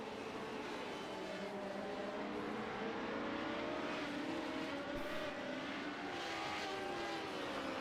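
Race car engines from a Phillip Island sim race whine faintly in the background, with several overlapping tones rising and falling as cars jostle closely, a low steady mix without talk.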